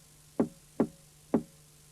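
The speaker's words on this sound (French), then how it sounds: "Il frappa à nouveau." Three knocks on a door as a storybook sound effect, evenly spaced, crisp and close, with a faint steady hum beneath and no voices.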